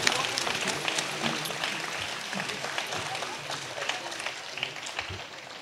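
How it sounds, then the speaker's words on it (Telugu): A large crowd claps loudly and steadily at a church feast of Saint Francis Xavier in Gollaprolu, making a dense, continuous wash of applause throughout. "గట్టిగా చప్పట్లు కొట్టి ఆ దేవాది దేవుణ్ణి స్తుతించుదాం"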